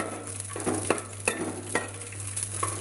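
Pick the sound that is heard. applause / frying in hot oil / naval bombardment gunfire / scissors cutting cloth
frying in hot oil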